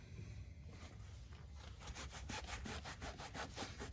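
Harsh back-and-forth scrubbing on a Flex Seal coated tire whitewall makes quick rhythmic rasping strokes, close and fairly quiet, speeding into a regular pulse.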